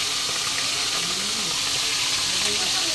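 A continuous, fairly loud hiss of shrimp frying in hot oil over a lowered gas flame, steady throughout, with a faint murmur underneath.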